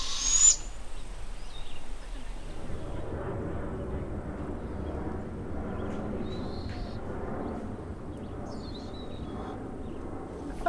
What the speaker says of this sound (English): There's those 2 little baby owls.